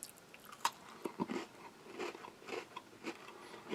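Crisp crunching bites and chewing of sweet cookies from a US Army MRE ration, close up and quiet, with several sharp cracks spread irregularly over a few seconds.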